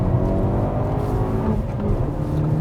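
A race car engine on a track pulls under smooth throttle, a loud, close, continuous drone with steady harmonics and a slight dip in pitch partway through.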